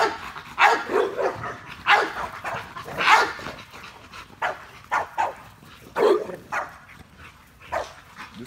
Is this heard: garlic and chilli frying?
no